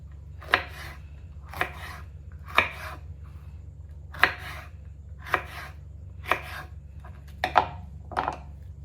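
A knife slices through food onto a cutting board in eight evenly spaced, crisp chops about a second apart, close and clear over a low background hum, without talking.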